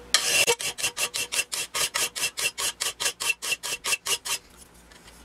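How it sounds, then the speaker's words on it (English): Hand file rasping across a steel lawnmower blade edge, about sixteen steady, evenly spaced strokes, loud and close, each a bright gritty scrape, before it stops and falls quiet. "you can see how the file's taking off the metal and I'm getting down to shiny metal"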